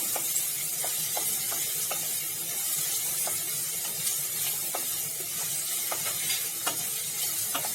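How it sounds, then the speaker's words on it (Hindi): Two medium onions sliced and frying in a pan until light brown, a steady soft sizzle with occasional light clicks of a spatula stirring, close and alone without talk. "प्याज डालना है सबसे पहले और इनको लाइट ब्राउन होने तक भूनना है"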